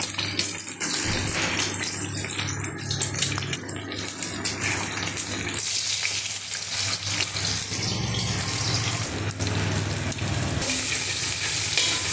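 Vegetables such as potato, green banana, tomato and onion frying in oil, a steady loud sizzle throughout with a brief drop in intensity midway and no talking.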